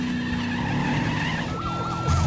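The General Lee stunt car drifts hard, tires skidding and squealing over a roaring engine that swells near the end, loud and close.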